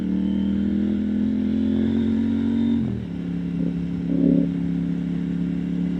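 KTM Duke 890R motorcycle accelerating on a backroad: a steady, loud engine drone that dips briefly around a gear change, then pulls again, heard alone without voices.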